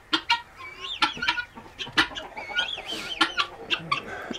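Newly bought fowl, probably guinea fowl, give repeated close, loud clucking calls in quick bursts with some rising whistly notes, one bird making the same sound over and over.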